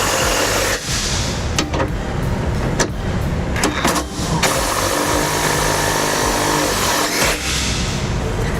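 An impact wrench runs hitch bolts into the passenger side of a vehicle during a Draw-Tite hitch installation, a loud continuous buzzing hammer that holds steady for several seconds with brief dips between bursts, close up and with no talk.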